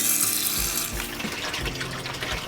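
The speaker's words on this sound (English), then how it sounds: "We're going to add just tap water. It's going to fill up and overflow" Tap water runs into an aquaponics tank as it fills, a steady broadband rushing and splashing that continues without a break and stays fairly loud and close.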